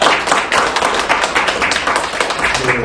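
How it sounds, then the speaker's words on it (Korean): An audience at a Korean disability-rights forum claps for a center director, a loud, close wash of many hands applauding continuously with no speech over it. "우리 소장님께 다시 한번 박수 부탁드리겠습니다"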